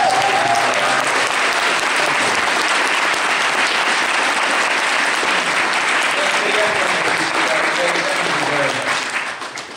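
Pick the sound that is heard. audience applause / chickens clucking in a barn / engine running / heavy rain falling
audience applause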